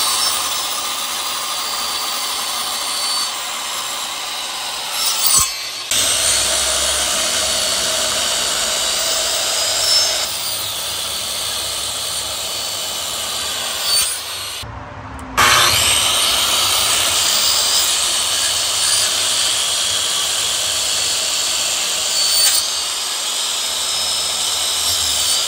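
Wood being sawn by hand to cut ridges into a birthday project, a steady continuous rasping stroke running nearly the whole time with two brief pauses, close and fairly loud.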